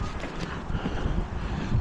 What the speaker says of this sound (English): But it's a little windy